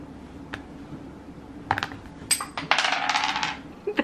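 Dice are tossed onto a table beside a drink, clattering in a quick burst of hard rattling bounces that settle after about a second, following a few isolated taps, with no talking.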